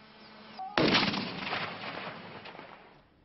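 A landmine detonates in a single sudden, loud blast after a faint tone, its rumbling roar then decaying slowly over the next couple of seconds.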